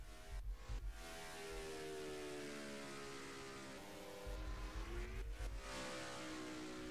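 A race car engine from a racing video game screams through a timed qualifying lap at Kansas Speedway, holding steady high revs with shifting harmonic tones and loud surges near the start and end, with no talk.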